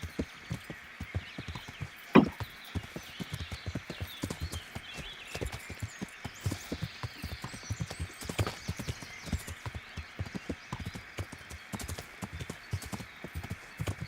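Horse hooves clip-clop at a steady, quick rhythm while riding in the medieval game Kingdom Come: Deliverance, with a brief neigh early on, all close and continuous over a soft ambient bed.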